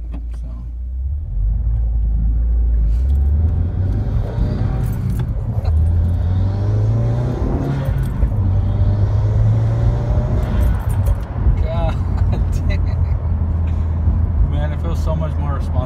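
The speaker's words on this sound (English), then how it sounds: "And then the turbo noises sound amazing." A 2020 Subaru WRX with a Stage 2+ tune and stock exhaust on a test drive, its engine droning loudly and steadily with rising and falling turbo tones, while people talk over it inside the car.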